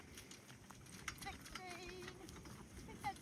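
Horse or pony hooves clip-clop steadily at a ride or competition event, faint and somewhat distant beneath ongoing crowd chatter and talking voices.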